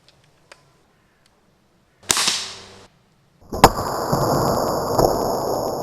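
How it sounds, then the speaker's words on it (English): FX Verminator Mk2 airgun firing a bolt through ballistic gelatin and a coconut, a sharp crack with a short decaying rush, then a second loud impact followed by a sustained noisy hiss and ringing tones. "our little toy gun managed to shoot the bolt through the gelatin and further on through the coconut, both sides"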